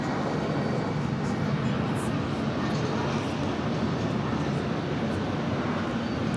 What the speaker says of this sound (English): the British Airways flight 173 coming up from London Heathrow. It's a 777 at 300 ER.